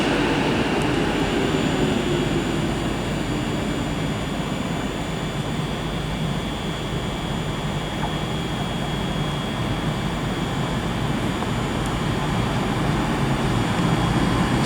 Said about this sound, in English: approaching as well now is the 11:20 Avanti West Coast service from Edinburgh to London Euston, formed of another pair of